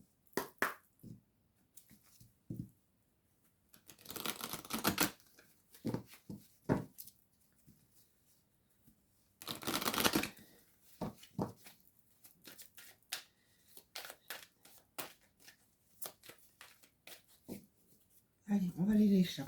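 Oracle cards shuffled in several close, loud bursts of rapid riffling and flicking, with soft handling taps and a speaking voice in between.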